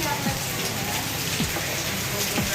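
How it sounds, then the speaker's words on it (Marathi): Heavy rain pours steadily, a dense continuous hiss of water striking surfaces with no break, loud and close throughout. "खूप मोठा पाऊस यायला लागला आहे आज"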